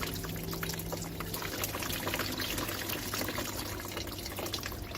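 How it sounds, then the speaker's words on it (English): Water poured onto a bonsai pot of well-draining bonsai soil, a continuous soft splashing trickle heard close and alone for several seconds. "give that some water."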